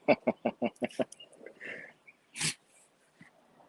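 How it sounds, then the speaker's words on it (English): A sudden sharp sneeze bursts out after a quick run of rhythmic breathy sniffs and snorts, fairly close and loud. "I'm about to sneeze"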